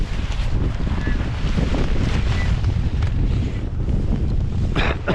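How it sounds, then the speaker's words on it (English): Steady wind buffets the microphone at a beach kite lesson where a kite is being pumped up, a constant broadband rush lasting throughout, with no speech. "Now you can see, Stelios, the wind is hitting you on your back, the kite is in front of you"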